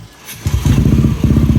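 A tuned motorcycle with a 66mm head and modified crank cranks briefly, then fires and settles into a loud, close, rapidly pulsing idle with no talking.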